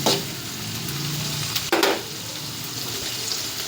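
Red onions fry in oil with a close, steady sizzling hiss, interrupted midway by a brief scrape or stir that briefly intensifies the crackle, with no one speaking.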